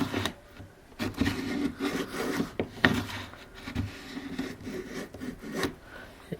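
A Veritas bullnose plane shaving wood in irregular rasping strokes, close and moderately loud, with a few sharper scrapes between passes.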